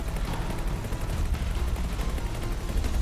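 Ship weapons firing in the space game X4: Foundations, a dense, continuous barrage of booming shots with heavy low rumble, loud and sustained throughout with no talking.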